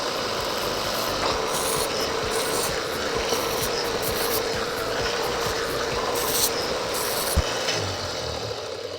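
Steady rasping and rubbing across the rough edge of a wooden monkey figurine, continuous scraping strokes with a brief knock near the end, close by and fairly loud.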